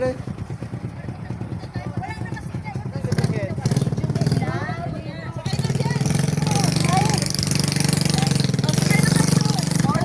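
Three motorbikes run together on Pamilacan Island in Bohol, their engines putting out a continuous rough, throbbing drone that grows louder partway through, while people talk over the noise.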